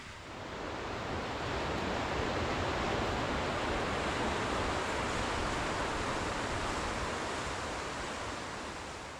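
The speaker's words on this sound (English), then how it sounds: "this amazing sound of the flowing water" Dense, steady rushing of a flowing river in Sweden fills the scene, a continuous broadband roar with no voices.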